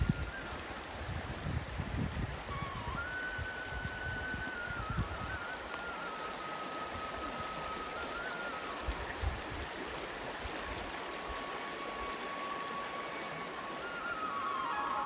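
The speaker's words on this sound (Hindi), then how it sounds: "पानी की आवाज़ आपको आ रही होगी" Steady rushing of flowing water near yurts and a fish farm in Kyrgyzstan fills the background, continuous and moderately loud, with a faint tonal hum drifting above it.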